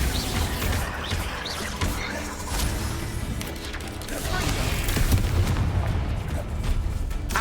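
Bombarda explosion spell cast during a Hogwarts Legacy battle, with repeated booming blasts and sharp bursts amid busy combat noise, loud and dense, rising toward the end, with game voices mixed in.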